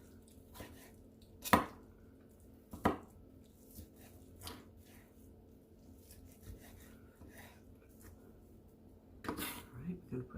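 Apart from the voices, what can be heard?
knife chopping birria meat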